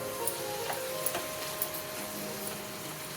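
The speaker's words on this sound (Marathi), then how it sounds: "आता असंच आपल्याला मंद गॅसवर कांदा चांगला भाजून घ्यायचा आहे" Onion with a spoonful of salt browning in a pan over a low gas flame for matar paneer, a soft steady sizzle with faint light ticks and crackles, close and quiet, no voices.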